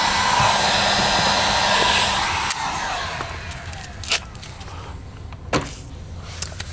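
A heat gun post-heats freshly installed vinyl door skin on a 2024-or-newer Toyota Tacoma, a steady close blowing whoosh that fades partway through, with a few light clicks and taps afterward.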